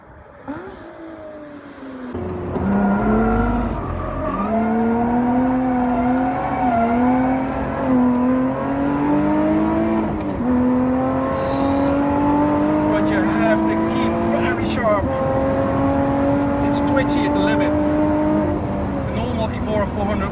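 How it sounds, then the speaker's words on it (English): A Lotus Evora 410 Sport is driven hard around a race circuit, its engine note climbing and dropping steadily through the gears from the cabin, continuous and loud, with brief tire noise. "And then the car just dances around on the circuit."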